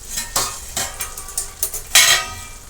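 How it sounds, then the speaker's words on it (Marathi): Spoon scraping and clinking in a pan while salt is stirred into bheja fry, several irregular metallic taps and scrapes, close and fairly loud, with no talk. "परत एकदा आपण व्यवस्थित मिक्स करून घेऊ"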